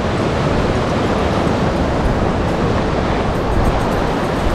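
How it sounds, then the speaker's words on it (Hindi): A waterfall in Zanskar, on the route from Purney to Padum, gives off a loud, dense, unbroken roar of rushing water. The broad, steady noise fills the whole stretch without any pause. "झरना, बहुत ही प्यारा झरना।"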